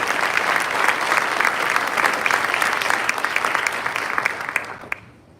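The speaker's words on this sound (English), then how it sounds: "Round of applause, please, for Ms. Telshaw and Ms. Badia." Applause from an audience at a school honor society induction ceremony, a full, even round of clapping that keeps up for several seconds and then quickly dies away.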